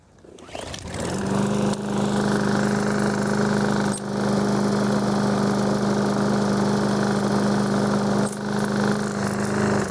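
Troy-Bilt TB200 push lawn mower engine starting up and then running steadily, a close, loud, even drone with a brief dip in the middle, no voices.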